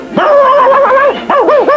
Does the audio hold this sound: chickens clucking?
no